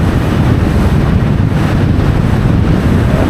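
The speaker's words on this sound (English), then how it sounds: "There's a big gust coming over here." A strong wind gust roars across the microphone while windfoiling, a loud continuous buffeting rush with water noise beneath and no speech.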